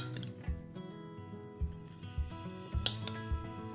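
Apple pie filling scooped into bowls over graham cracker, with repeated soft scoop sounds and metal utensils clinking against the dishes in an uneven rhythm, plus a few sharper clinks.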